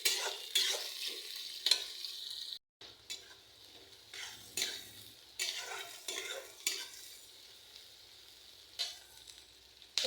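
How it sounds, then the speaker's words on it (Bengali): Hot sliced onions and shrimp fry in a pan while a spoon stirs them, bursts of sizzling rising and falling with each close stir, separated by scraping strokes and a brief pause. "দিয়ে দিলাম ঝাল পেঁয়াজ এবং কিছু চিংড়ি মাছ। এবার এটাকে একটু নাড়াচাড়া করব।"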